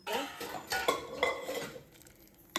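Soaked sabudana being stirred in a pan with a metal spoon, giving a run of close scraping and clinking strokes against the pan that trail off toward the end.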